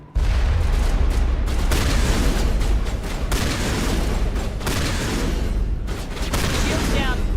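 Shotgun gunfire in the video game Mass Effect: a dense, continuous barrage of booming blasts and combat noise, loud throughout, with voices mixed in.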